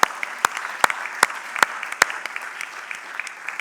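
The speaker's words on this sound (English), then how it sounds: "So let's give the higher diplomas a big round of applause." An audience at a hotel school graduation ceremony applauds steadily, with many hands clapping in a loud, sustained round and several sharp nearby claps standing out in a rough beat.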